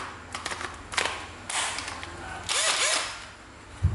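A National cordless drill with a 10 mm bit and autolock chuck runs in several short bursts, revving up and stopping near and fairly loud, with brief whirring pulses and a low thump at the end.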